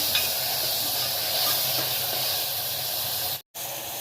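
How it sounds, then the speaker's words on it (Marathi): Tomatoes fry in a pan for masoor tadka dal, a loud, even hiss and sizzle that runs steadily close by and cuts out briefly near the end. "आता आपण यात टमाटा ऍड करणार आहोत। छान असं मस्त फ्राय होऊ द्यायचं।"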